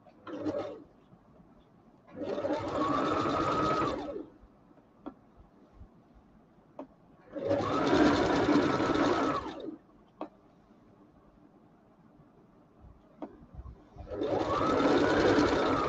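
A sewing machine stitches telekung fabric in three bursts of rapid, whirring stitching, each about two seconds long, with quiet pauses and small clicks in between.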